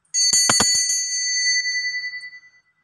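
A bicycle-style bell rings with several quick bright strikes, then its metallic tone fades out over a couple of seconds.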